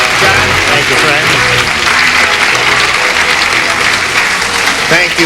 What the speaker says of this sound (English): Thank you for your polite applause.